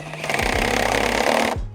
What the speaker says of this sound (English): in my case, drill in a socket, and I'm just gonna put that on there and screw down